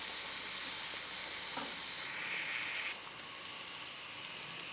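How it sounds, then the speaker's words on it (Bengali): Jackfruit pieces sizzle steadily in hot oil with turmeric in a pan, a loud, continuous hiss that drops in level near the end, with faint stirring scrapes and no talking. "তো ভালো করে এভাবে নাড়িয়ে চাড়িয়ে তোমরা ভেজে নেবে"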